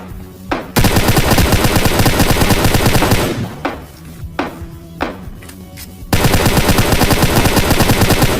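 Automatic gunfire from PUBG Lite gameplay comes in loud, dense bursts: a long sustained volley, a pause with scattered single shots, then another heavy volley.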